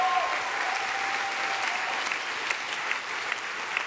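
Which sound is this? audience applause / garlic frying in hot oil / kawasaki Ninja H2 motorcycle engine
audience applause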